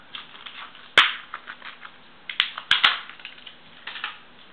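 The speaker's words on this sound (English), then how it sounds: "I'm going to carefully take my knife and pick it and peel this cover off of it." A knife picks at and peels the plastic cover off a White's metal detector battery pack, giving scattered close crackling scrapes with several sharp snapping clicks.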